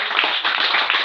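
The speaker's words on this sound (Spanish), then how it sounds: "Aplauda a Jesús." Congregation at a Spanish-language church service claps for Jesus, a brief, dense burst of many hands that stays loud and even throughout.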